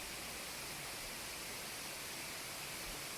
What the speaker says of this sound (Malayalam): അതിമനോഹരമായ വെള്ളച്ചാട്ടമാണ്.